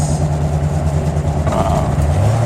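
A car drives along a road in Morocco, its engine a steady, close, fairly loud drone with a slight rise in pitch partway through.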